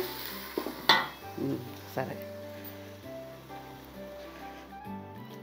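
A metal pot lid is set down with a clattering clank over a pot of mutton biryani. A softer clink follows, and a quiet cooking hum continues underneath.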